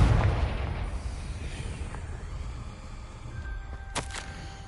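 A Confringo blast spell going off in Hogwarts Legacy, a heavy booming burst at the start that trails into a rumbling decay, with a brief sharp crackle later on.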